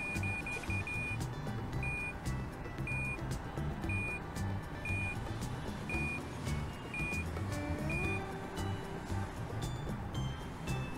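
Truck reversing beeps in Truck Simulator 2019: Europe, a steady series of evenly spaced electronic beeps over a low engine drone, with the engine pitch rising briefly near the end.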